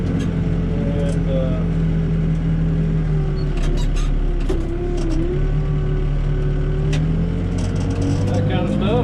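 A backhoe rolling over a driveway to pack it down, its engine a steady loud diesel drone with shifting pitch and occasional clanks, close by, with a voice talking over it.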